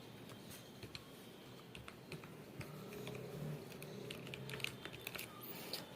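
Quiet keystrokes as a password is entered on a computer keyboard, a soft irregular patter of clicks over faint room noise.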